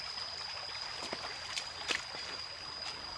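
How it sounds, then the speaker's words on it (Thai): A stream flows beside a plot of land at the foot of the hills in Noen Hom, Prachinburi, near Khao Yai. It makes a steady, faint rush of water with a few small splashes and no talk. "ติดลำธารสวยๆแบบนี้เลยค่ะ"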